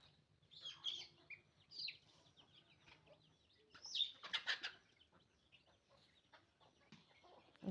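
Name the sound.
roosters clucking while being fed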